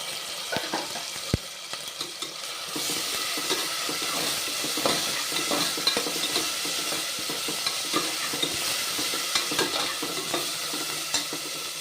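Onions with ginger paste sizzle and fry steadily in a pan while a spoon stirs them, with scraping and clattering against the pan throughout. Near and continuous, with no talking.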